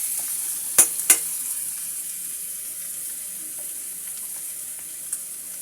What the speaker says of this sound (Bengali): এবার দেব সামান্য একটু পানি।